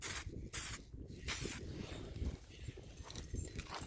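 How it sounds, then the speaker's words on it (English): A spray gun applies paint to a Ford Fusion door in three loud, short hissing bursts at the start, then quieter intermittent spraying and faint movement nearby. "now we're gonna finish spraying"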